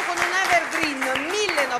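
Brief audience applause at the Note Sotto Le Stelle music show, a patter of claps running beneath a presenter's voice talking over it.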